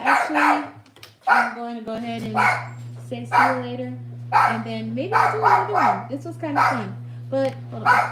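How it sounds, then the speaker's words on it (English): A dog barks and yips in short bursts in the background while a person keeps talking over it nearby, the barking intermittent throughout. "Sorry about the dog. He's super annoying."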